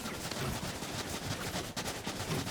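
Rapid gunfire in the competitive video game Eve Ascension, a team match, crackling steadily and fairly faint throughout, dense and continuous with no talk over it.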